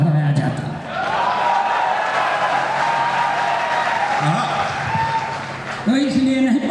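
Audience applause at a Hindi comic poetry recital (hasya kavi sammelan), a steady wash of clapping filling most of the stretch while a voice carries on over it and rises again near the end.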